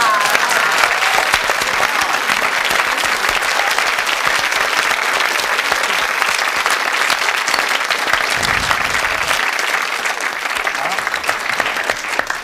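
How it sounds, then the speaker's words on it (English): A studio audience at a 1970s British television whodunit game show breaks into sustained, dense applause, steady loud clapping that continues throughout. "A special applause."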